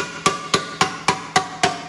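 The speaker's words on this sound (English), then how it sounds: "as I hammer it in" Sharp metallic hammer strikes shaping a sheet-metal chopper gas tank, seven evenly spaced blows about a quarter second apart, close and ringing.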